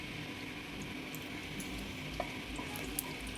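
Whole cumin seeds sizzling in hot oil in a pan, a soft, steady frying hiss with a few small pops and crackles, quiet and close, with no speech.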